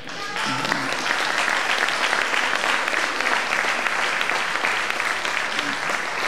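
A crowd applauds warmly and steadily at a 550th anniversary commemoration of Scanderbeg's death in Rionero and Barile, dense clapping rising quickly and holding at full strength.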